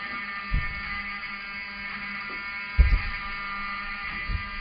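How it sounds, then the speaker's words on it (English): A fire alarm at the Westfields Marriott hotel outside Washington, D.C., sounds during a building evacuation as a steady, droning electronic buzz that continues throughout, with a few dull thumps and knocks nearby. "I want them to hear the fire alarm"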